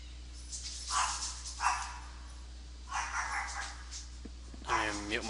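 A dog barks at a cat several times in short bursts, somewhat distant, with a whimpering yelp near the end over a faint background hum.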